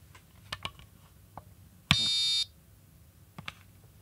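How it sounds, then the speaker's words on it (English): One sharp electronic beep sounds for about half a second as a Rejuvenique remote control powers on, loud and steady, amid faint scattered clicks and handling noises. "you can hear the wonderful beep that it lets out whenever you turn it on"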